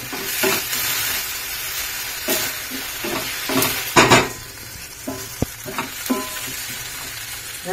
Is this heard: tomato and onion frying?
yes